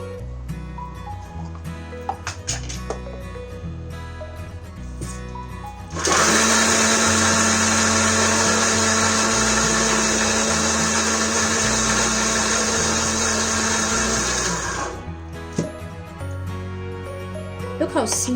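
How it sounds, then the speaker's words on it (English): A kitchen blender whirs loudly for about nine seconds, blending roasted bell pepper hummus with olive oil, starting and stopping abruptly between quieter stretches with low background noise. "we'll be blending this in the blender for about a minute"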